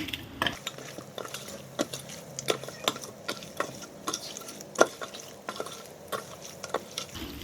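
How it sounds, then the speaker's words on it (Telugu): Chicken pieces are tossed with chili powder in a pot, giving repeated light clinks and scrapes of a spoon against metal in an irregular rhythm, close and fairly quiet, with no voices. "ఇట్లా బాగా కలిసేలాగా అన్ని ముక్కలకి ఈ పీసులన్నిటికీ పట్టేలాగా బాగా కలుపుకోండి."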